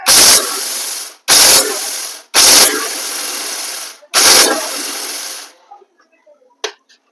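A kitchen mixer grinds two bowls of dry wheat in four loud whirring bursts, each lasting about a second and separated by short gaps, followed by faint clattering of grain.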